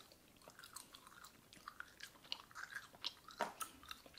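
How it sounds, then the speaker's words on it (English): Close, quiet chewing of wax from wax bottle candy, with soft sticky crunches and bites in an irregular rhythm, no talking. "I like chewing the wax."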